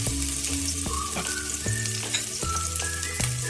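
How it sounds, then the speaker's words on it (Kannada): Sliced onions and curry leaves frying in about two tablespoons of oil for an egg and field-bean sambar, giving a steady close sizzle with recurring stirring clicks and scrapes and no talking. "ಇದನ್ನ ಸ್ವಲ್ಪ ಫ್ರೈ ಮಾಡ್ಕೊಳ್ಳೋಣ"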